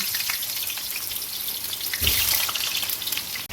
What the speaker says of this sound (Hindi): अब मैं आलू को ऑयल में फ्राई करूँगी